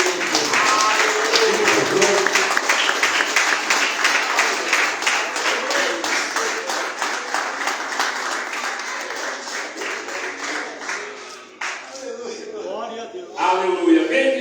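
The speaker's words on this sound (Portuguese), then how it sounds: "Aplausos, Senhor." A church congregation applauding, crowded rapid clapping that carries on for about eleven seconds, loud and full, then fades as voices and speech take over near the end.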